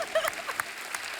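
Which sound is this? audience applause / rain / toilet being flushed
audience applause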